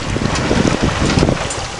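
Wind roaring across a small sailboat running downwind in the Bristol Channel, a loud, steady buffeting rush right against the microphone.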